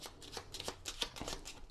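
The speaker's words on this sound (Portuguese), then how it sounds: "Vai juntar isto, vai baralhar" Cards from the board game Tabernas do Vale Profundo are shuffled, making quiet, quick riffling and rustling pulses for under two seconds, with no talk.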